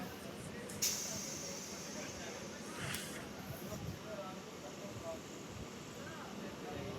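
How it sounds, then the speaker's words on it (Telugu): A MEMU passenger train runs and slows down, a low steady rumble of wheels and carriage heard from inside, with a brief hiss near the start and another around the third second, moderately faint throughout. "ట్రైన్ స్లో అవుతుంది"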